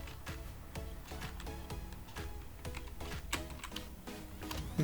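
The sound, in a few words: typing code on a computer keyboard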